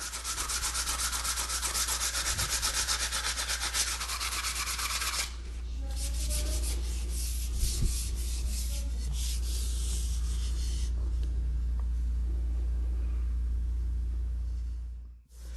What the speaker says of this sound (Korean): 대나무에 튀어나온 마디는 끌로 깨끗하게 긁고 사포로 문질러 부드럽게 만든다.